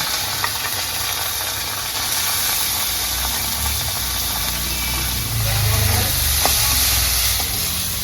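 Ginger, green chilli and mecha frying in a pan, giving a loud, steady sizzle and hiss that continues throughout and swells slightly near the end.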